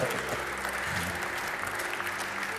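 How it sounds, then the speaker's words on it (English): Steady applause from an audience at the Women's EHF EURO 2024 handball final tournament draw, dense clapping filling the room at an even level throughout with no talking. "Big applause for Petra."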